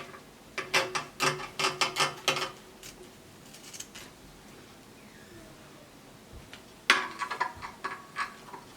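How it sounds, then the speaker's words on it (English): Scissors snip through fabric to cut out the neckline of an off-shoulder bustier circle dress: a quick run of crisp snips, a pause, then another short burst of cuts, close and clear. "I'll cut the neckline."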